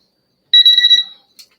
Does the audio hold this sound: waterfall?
no